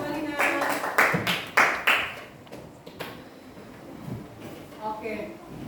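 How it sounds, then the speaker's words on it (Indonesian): Classroom students clapping for a group after a presentation, several bursts of brisk hand claps in the first two seconds, then quieter room noise with faint voices. "Oke, tepuk tangan buat kelompok 1."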